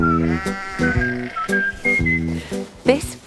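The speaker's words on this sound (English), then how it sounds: "And there are a lot of sheep here." Sheep bleating on a sheep farm, several loud, wavering calls overlapping one after another close by, with some whistle-like tones among them.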